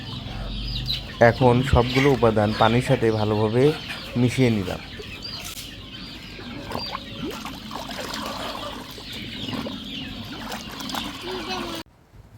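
Native chicks clucking in a burst of repeated calls early on, then quieter scattered peeps and trickling water as a person speaks over them.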